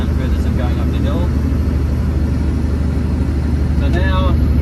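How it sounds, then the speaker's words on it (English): Steady low engine drone from a road train lorry held around 1500 revs while climbing a hill, loud and continuous inside the cab, with faint higher tonal chirps and someone talking over it. "So now, if I put my foot down, you can hear it accelerate a little."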